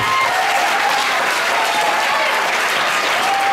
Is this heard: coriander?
no